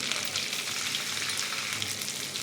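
Ginger and green chilli paste added to hot oil with tomato in a pan, producing an even, hissing sizzle up close, steady and unbroken with no speech.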